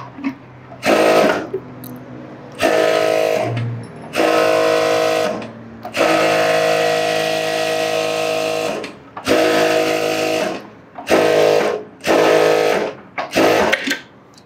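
A sewing machine stitches around a garment lining in a series of about eight steady whirring bursts, some short and some sustained, separated by brief pauses, close and fairly loud.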